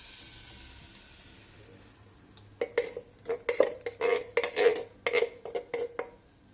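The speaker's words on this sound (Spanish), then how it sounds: "En la misma sartén al fuego voy a colocar el tomate." Tomato tipped into a frying pan on the stove for homemade sugar-free ketchup: a series of clanks and scraping clatters of utensil against the pan, close and fairly loud after a quiet start.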